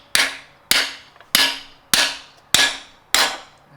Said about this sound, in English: Then we can take the hammer